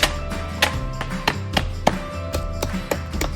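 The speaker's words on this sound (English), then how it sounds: "Gently crush using your hands or a meat mallet." Cornflakes cereal crushed by hand or with a meat mallet inside a plastic bag, heard as a series of sharp crunching taps and rustles, irregular and close, with no speech.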